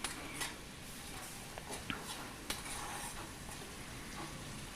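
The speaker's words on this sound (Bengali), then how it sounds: "সামান্য একটুখানি জল দিয়ে ভালো করে মশলাটাকে কষিয়ে নেব লো মিডিয়াম ফ্লেমে" Soft, close sizzling of spice paste frying over low-medium flame for an echor chingri curry, with faint scraping stirs and a few light utensil clicks against the pan.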